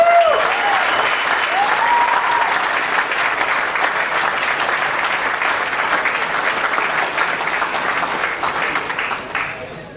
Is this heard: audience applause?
yes